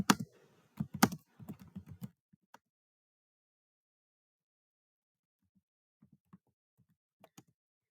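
Keys clack on a computer keyboard while text is typed, a quick burst of close clicks at the start, then a few sparse, fainter taps after a pause.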